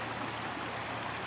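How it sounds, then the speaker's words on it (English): Swollen creek water after storms rushes in a steady, broadband roar, close and continuous with no breaks or voices. "There, hear the little roar of the water."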